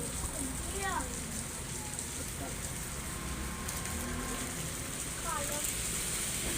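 Rain falls steadily on a rainy day outdoors, a constant soft wash of drops running under children's chatter and a few chirping bird calls.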